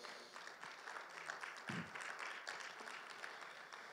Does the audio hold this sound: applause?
yes